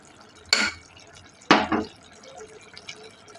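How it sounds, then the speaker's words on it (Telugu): A spoon scrapes twice against a pot as ginger garlic paste is mixed into chicken pulusu curry. Both strokes are short and clattery, with a quiet stretch between them. "అల్లం వెల్లుల్లి పేస్ట్ వేసుకొని బాగా కలుపుకోవాలి"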